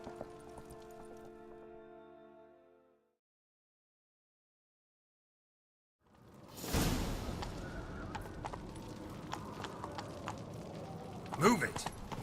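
Horse hooves gallop in a fast rhythm in a video game after a brief pause in the game audio, joined by rushing noise and occasional sharp clatter.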